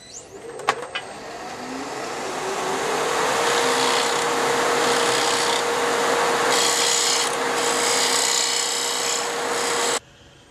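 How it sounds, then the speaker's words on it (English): A wooden bracelet's edge is dressed and sanded with a power tool: a steady, loud rasping grind over a constant motor hum runs for about nine seconds, then cuts off abruptly. "I'm going to dress up this edge a little bit and then sand it."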